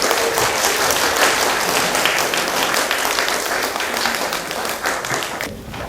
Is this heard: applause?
yes